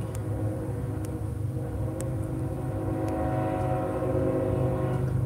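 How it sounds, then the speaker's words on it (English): Train rolling past a railway crossing, heard from close by as a steady loud rumble with faint clanks and a high ringing tone now and then. "Here comes a train."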